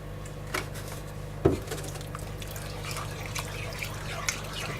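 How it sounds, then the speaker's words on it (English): Cold milk is poured into sausage gravy in a pan, heard as faint liquid dribbling and soft splashes, with one brief louder splash near the start. "To add the milk, and I always use cold liquid."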